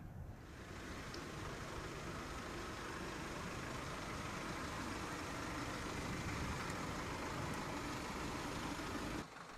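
A vehicle rolls slowly along farm roads, its engine a steady low rumble with a broad noisy drone that holds evenly throughout and cuts off abruptly at the end; no voices.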